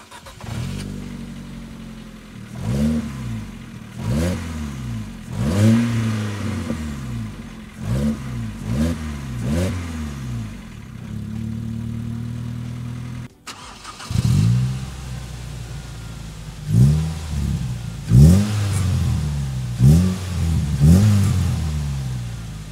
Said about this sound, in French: Je vous propose désormais d'écouter les 2 sonorités des véhicules